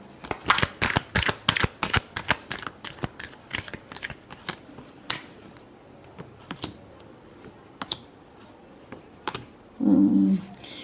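Tarot cards are shuffled in a rapid run of crisp riffling snaps, then scattered slower flicks and taps, close and fairly loud with no voice over them.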